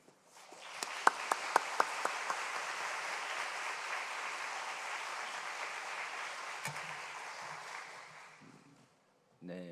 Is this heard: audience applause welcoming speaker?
yes